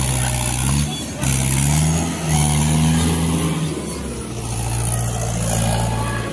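A tractor plowing a village field gives a steady low diesel drone that swells and dips in load over several seconds, close and continuous.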